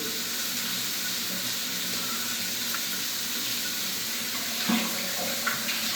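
Tap water runs steadily and fairly loudly into a sink during a rinse after head shaving, a constant broadband rush with a couple of brief splashes near the end and no talk.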